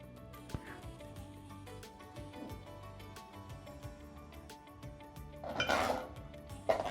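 Metal pots and vessels are handled while jaggery rice for a temple offering is cooked, giving soft scattered clinks and scrapes, with a louder clattering clank near the end, under quiet kitchen background and no speech.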